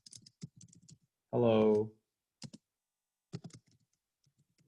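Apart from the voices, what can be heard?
typing on a computer keyboard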